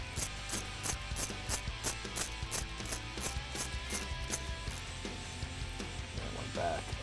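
A ratchet snugs bolts down in a cross pattern before torquing to 106 inch-pounds, a quick, close, repeating clicking that runs steadily throughout without talk.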